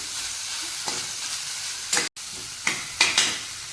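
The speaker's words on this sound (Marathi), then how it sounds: "2 ते 3 मिनिटं हे व्यवस्थित आपल्याला परतून घ्यायचं आहे" Modak filling with added poppy seeds is sautéed and stirred in a pan, giving a steady soft sizzle with a few louder scraping strokes of the spoon, close and alone without talk.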